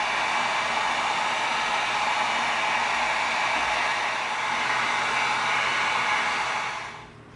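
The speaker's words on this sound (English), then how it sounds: "now what we're gonna do is we're gonna get our heat gun out. We're gonna seal this whole thing." A heat gun blows steadily while heat-sealing an EVA foam prop blaster, a loud, even airy roar that holds for about seven seconds before cutting off and fading.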